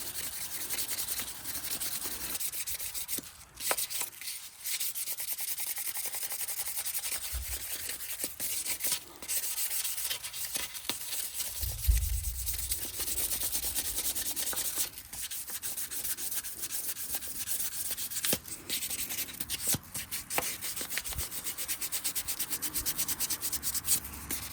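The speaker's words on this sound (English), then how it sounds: "I've already used a 400, but I'm on the 800 grit now. Just going over it real good." Steady, close rubbing of 800-grit sandpaper over a vintage Chicago Cutlery knife runs back and forth without pause, a dry continuous scratchy hiss with no talking.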